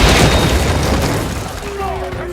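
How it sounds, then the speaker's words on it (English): A thunderous explosion tears through a compound in the Max Payne video game, a heavy boom with rumbling debris that decays over a couple of seconds. "A thunderous explosion tears through the compound, fire and rubble consuming everything."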